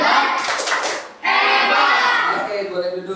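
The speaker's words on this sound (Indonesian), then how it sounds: "Kasih tepuk hebat, tepuk hebat." Children in an elementary school classroom clapping a rhythmic cheer clap together, a loud burst of many hands with a brief pause before a second round, mixed with their voices.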